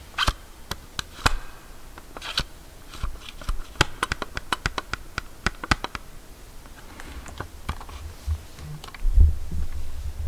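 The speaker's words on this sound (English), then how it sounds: "This is the sound of the lid." A series of sharp plastic clicks and snaps, irregular and close up, as a small cassette lid is opened and shut, then a low thump.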